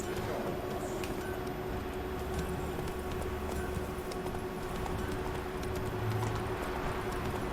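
Horse hooves clip-clopping in The Witcher 3, a faint, steady trotting rhythm under a constant game background bed, with no talk.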